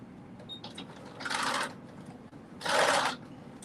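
A sewing machine stitches a garment hem in two short bursts of rapid whirring, each about half a second long and close by, separated by quiet room tone with a few small clicks.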